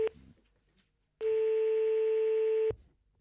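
A telephone line sounds a brief tone, then a single long steady dial or ringback tone lasting about a second and a half, clear and close with no talk.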